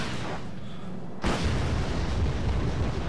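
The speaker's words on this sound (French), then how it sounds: "j'ai fait sauter du ravitaillement, donc explosion" A supply depot explodes in the Wargame Red Dragon strategy game: a sudden loud blast after a quieter stretch, followed by a sustained roaring rumble.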